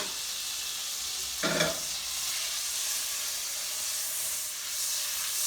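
Celery, onion and garlic frying in butter in a soup pan, a steady loud sizzle and hiss throughout, with one brief clatter as the vegetables are stirred, close and without talking.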